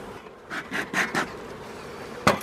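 A honeybee swarm hums as a beekeeper closes its box in spring. Several short buzzy bursts come in quick succession, then one sharper burst after a pause, all heard up close with no talking.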